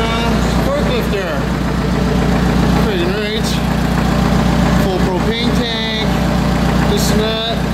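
An old Allis-Chalmers forklift engine idles with a steady low rumble and vibration, close by, while people talk over it.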